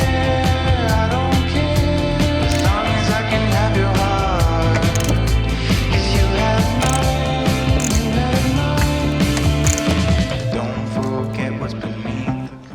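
A socket ratchet works on bolts of a Land Rover Defender, giving rapid, close metallic clicking in repeated bursts with mechanical clatter for about ten seconds before easing off.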